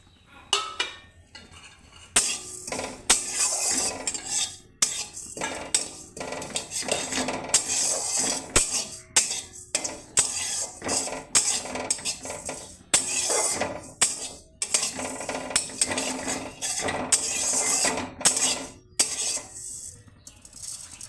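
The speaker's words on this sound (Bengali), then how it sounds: "এবারে শুকনো খোলায় এই জিরাগুলো ভেজে নেব" Cumin seeds are stirred in a dry pan with a metal utensil, making repeated scraping and clinking strokes in an uneven rhythm with short pauses, fairly close and without speech.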